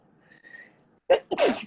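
A single loud, close sneeze in two sharp bursts, following a short stretch of near-silence with a faint background hum.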